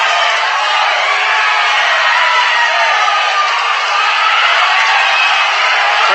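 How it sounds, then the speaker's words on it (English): A boxing arena crowd on its feet cheering after a heavy right hand, a dense, loud and unbroken roar filling the whole stretch. "Crowd on their feet, they're loving this."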